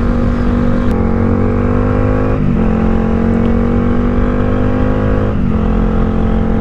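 Yamaha R15 V3 motorcycle engine on a mountain ride, a loud, steady droning hum at constant revs with brief dips at gear changes, recorded close, no talking.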